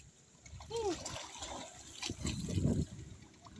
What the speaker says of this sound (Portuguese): Está mergulhando nessa piscina, pessoal.